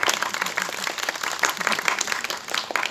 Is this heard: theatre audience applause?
yes